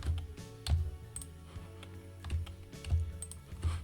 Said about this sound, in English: hold each number down while holding the control key down on your keyboard